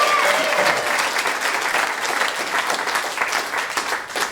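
Comedy-show audience breaking into loud, continuous applause with scattered cheers, a dense roomful of clapping that holds steady for several seconds.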